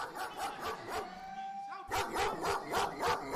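A group of dogs barks in steady repeated bursts, rising louder after a brief pause, with some pitched whining or howling mixed in, fairly close and continuous.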